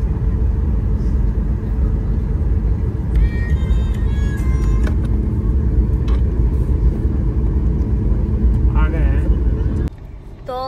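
Interior of a moving car on a road trip from Delhi to Deoria, a constant low road and engine rumble filling the cabin, with brief tonal chimes and beeps over it and a sudden drop near the end.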